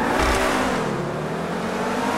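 An Übermacht SC1 rear-wheel-drive sports car in Gran Turismo 5 pulls away from a standing start, its engine roaring loud and continuous as the revs climb, with no voices.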